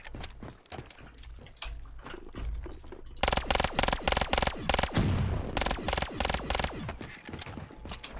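Death Machine minigun fire in Black Ops 3 zombies custom map, rapid loud bursts of gunshots growing into a sustained stuttering stream of fire, close and dominant.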